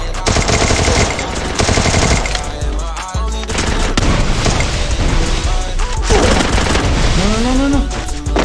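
Loud, dense gunfire from the Rules of Survival battle royale game: rapid automatic bursts and booming shots almost without pause, close and heavy, with game effects mixed in.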